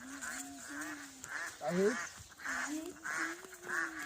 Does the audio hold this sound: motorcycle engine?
no